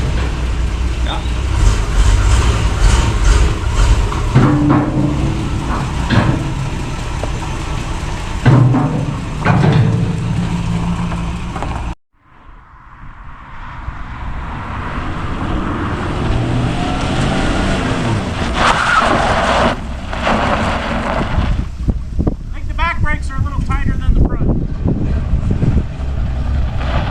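A 1966 Ford Mustang engine runs steadily on a test drive, a loud continuous rumble with a brief cut midway before the engine note returns and carries on with bursts of revving.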